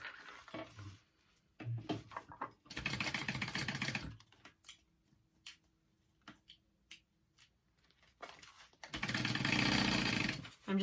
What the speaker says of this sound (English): you're gonna sew up the sides and the top